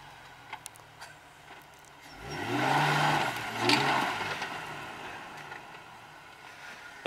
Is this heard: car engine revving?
yes